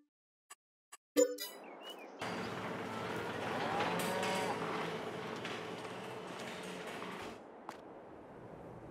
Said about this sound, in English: 50 cows.